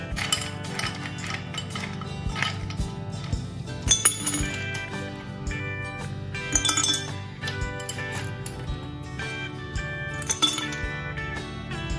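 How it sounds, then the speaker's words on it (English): Ice cubes drop into a drinking glass while an iced tea drink is made, giving repeated bright clinks and rattles spread over several seconds, with a few sharper knocks standing out near and fairly loud. "now first we put the ice."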